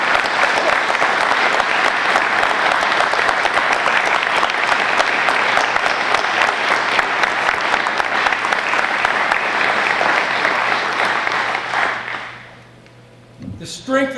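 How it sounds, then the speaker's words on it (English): An audience at a French Legion ceremony at a warbird museum breaks into loud, sustained applause that fades out near the end, followed by a few brief voices. "They deserve a round of applause."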